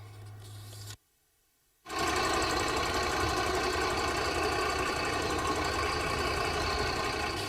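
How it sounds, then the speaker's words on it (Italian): A tow truck's diesel engine runs with a steady knocking idle while it hauls away a crashed motorcycle after a fatal accident, close and continuous after a brief drop to near silence. "Sono le 13 in punto quando il carro attrezzi porta via la moto"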